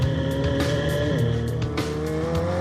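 A McLaren 765LT supercar with a 765-horsepower twin-turbo V8 drives on the road, its engine a loud, continuous close growl that rises and shifts in pitch with brief sharp bursts.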